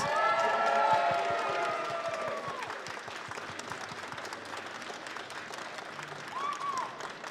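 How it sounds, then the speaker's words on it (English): A crowd at a sci-fi convention stage in Birmingham applauds and cheers for Anthony Daniels, a full burst of clapping with whistles and shouts early on that slowly thins over several seconds. "let's have a big, huge, massive round of applause for C-3PO himself,"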